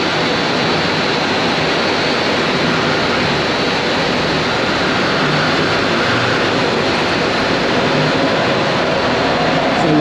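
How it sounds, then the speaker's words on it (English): A Land Rover Defender Td5 fitted with a GTB450 turbo runs at full throttle, a loud, dense, unbroken roar of engine and wind noise heard from inside with the window down. "So we're going full throttle now."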